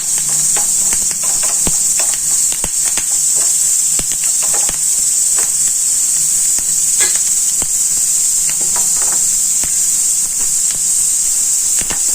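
A millet pongal tempering frying in a pan gives a continuous bright hiss that holds steady throughout, with scattered small crackles and clinks from stirring and no talk.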